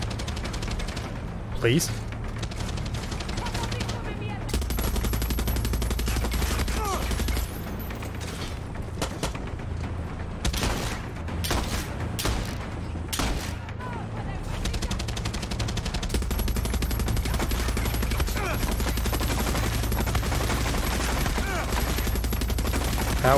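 Machine gun fire in the video game Far Cry 6, sustained loud bursts of gunfire that run almost without pause, mixed with other game noise, with someone talking briefly over it.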